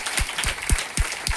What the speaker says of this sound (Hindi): जोरदार ताली होनी चाहिए आप लोगों को।